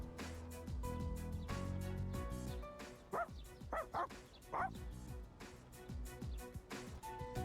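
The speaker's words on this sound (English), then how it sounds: "Koromaru is trying to reason with the stray dog." A stray dog barks at Koromaru in Persona 3 Reload, with several short, yappy barks midway through, heard over continuous game background music.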